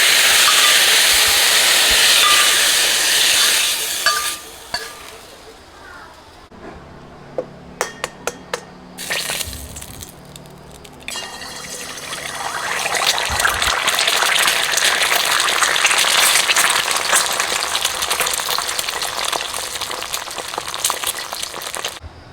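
Squid stir-frying with holy basil in a wok, a steady loud hiss and gush of sizzling with scattered sharp clinks of a utensil against the pan, briefly quieter in the middle before the frying roar swells again.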